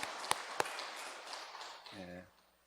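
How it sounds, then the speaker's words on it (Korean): Crowd applause fills the first two seconds with a couple of sharp louder claps, then fades as a single voice briefly calls out. "우리 박수 한번 합시다."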